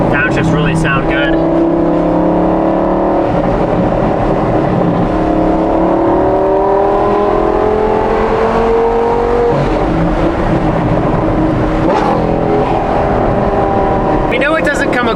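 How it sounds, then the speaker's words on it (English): Gen 1 Audi R8 V10 on stock headers with a Valvetronic exhaust, running through a series of downshifts; a sustained, smooth low engine tone with shifting pitch sweeps throughout, close and loud, with faint voices beneath. "Downshifts really sound good."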